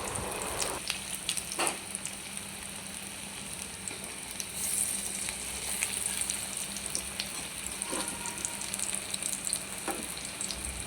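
Onion rings frying in a pan, sizzling steadily and close for the whole stretch, with faint occasional clinks and stirring and no talk.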